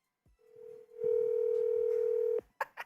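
A phone dialing out to reach voicemail: a few quick keypad tones, then one long sustained steady tone for over a second, followed by two short chirping beeps, close and clean with no talking.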